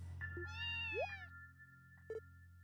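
A cat in the video game Trails from Zero gives a drawn-out meow followed by a short chirp, set over a steady low background hum.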